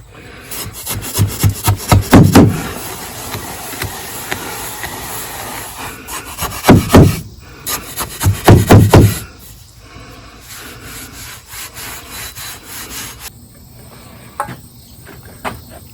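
Hand tools are scrubbed in a bucket of sand and oil, giving harsh gritty rasping strokes in three loud bursts, then a quieter hiss with occasional scrapes.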